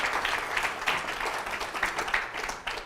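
A moderate round of audience applause at a live talk, many hands clapping in a slightly uneven, rolling patter without speech on top.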